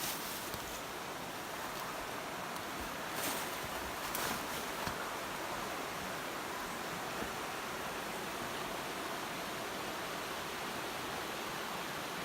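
A steady, even wash of trickling water from a stream or small waterfall near a campsite in Algonquin, heard from some distance as a constant, fairly quiet rush that never breaks, with no voices.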